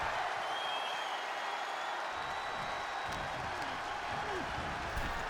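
A crowd roars in the WWE 2K25 wrestling video game at an Undertaker birthday bash live event, a loud, continuous wash of cheering and applause that fills the whole stretch.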